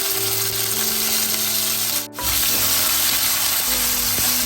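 Chopped onions going into hot oil for a Sri Lankan beetroot curry, a loud, close, continuous sizzle that drops out for a split second as they hit the pan, then crackles on steadily, with no one talking.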